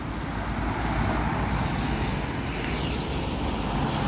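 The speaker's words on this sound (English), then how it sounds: "It's a load of cars." Steady road traffic streams around a roundabout in Stirling, Scotland, a continuous wash of cars and heavier vehicles passing at moderate distance with no clear gaps.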